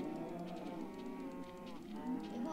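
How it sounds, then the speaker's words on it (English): A Minecraft cow moos repeatedly in a steady, drawn-out blocky game sound, loud and close with no talking over it. "Let me show you guys a cow."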